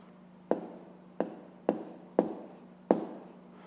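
Pen strokes writing fractions by hand during a fifth-grade maths exercise: five short, crisp scratches at a steady pace, close and quiet.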